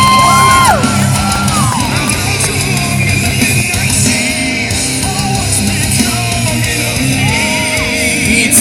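Crowd at a BMX show at the Texas State Fair whooping, yelling and cheering for rider Pete Grant, a steady loud roar with scattered shouts and whistles throughout.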